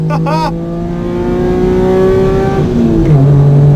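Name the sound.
Mitsubishi FTO car engine revving on race track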